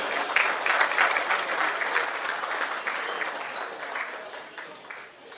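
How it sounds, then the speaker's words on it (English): Audience applause at a 2012 Kefrosarón Charity Association party, honoring the committee members: a steady wash of many hands clapping, fairly full at first and thinning slightly toward the end. "just a quick round of applause for the committee members of the Kefrosarón Charity Association"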